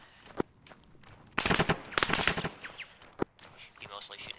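Gunfire from soldiers in Arma 3: a sharp single shot, then a dense burst of rapid automatic fire, followed by another crisp shot and scattered pops, with faint radio chatter in the background.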